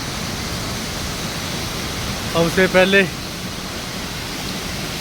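A powerful waterfall near a temple rushes in a constant, even roar, with a person speaking briefly over it midway.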